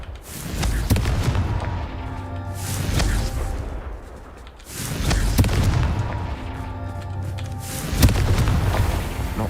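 Repeated booming blasts of the Confringo fire spell in the video game Hogwarts Legacy, three heavy rumbling explosions with whooshing tails in a loud, continuous game soundscape.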